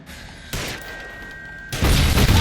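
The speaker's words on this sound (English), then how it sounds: "Shoot the barrels." Barrels shot in the L.A. Noire video game, a loud burst of blast noise followed by a steady rumbling roar, then a second heavier crashing explosion, with no speech.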